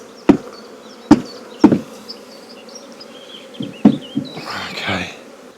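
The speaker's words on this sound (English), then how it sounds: "So all the flying bees are going to come back to that position." Honey bees from a collected swarm buzz around their hive in a steady close hum, broken by several sharp knocks and thumps against the wooden box.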